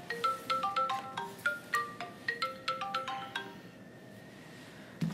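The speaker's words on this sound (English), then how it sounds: "That's my alarm." A phone alarm rings out in a quick repeating electronic melody of bright chiming tones, fairly clear in a quiet sewing room, then breaks off near the end.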